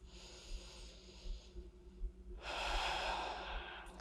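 Deep, slow breaths during a core strength workout, an airy inhale swelling into a louder, fuller breath midway, close and alone without talk.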